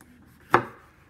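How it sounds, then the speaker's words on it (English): A single sharp knife chop through a bell pepper on a cutting board, one crisp close knock that fades quickly in a quiet kitchen. "But I'm chopping right now"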